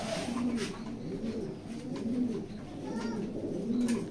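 Racing pigeons, a large light Mili pair among them, coo close by in a steady run of low, throaty calls that repeat every second or so.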